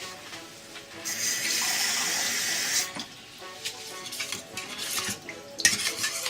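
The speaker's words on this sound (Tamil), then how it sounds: "இதில் தேவையான அளவு தண்ணி ஊற்றிக்கலாம்." Water pours in a steady rush into a pot of pepper rasam for a couple of seconds, followed by metal scraping and stirring clinks against the pot.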